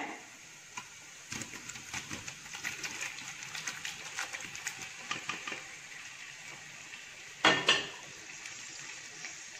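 Beef roast with curry leaves, Kottayam style, is stirred in a pan. A steady run of scraping clatters from spoon against metal builds up, then a louder pair of clanks comes near the end.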